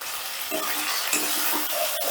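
Salted tomato pieces are stirred and fried in a pan: a steady sizzle with repeated scraping strokes of a utensil, close by and without any talk.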